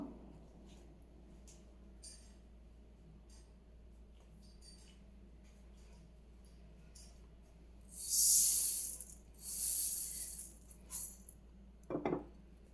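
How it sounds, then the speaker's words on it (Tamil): About 400 grams of coriander seeds dry-roasting in a hot kadai over a medium flame. A long quiet stretch gives way to two dry, rustling scrape bursts from stirring, followed by a brief clatter near the end. "இதில் ஒரு 400 கிராம் மல்லி போட்டு வறுக்கணும்."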